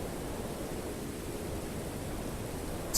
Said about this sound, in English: Wow, it's raining pretty hard already.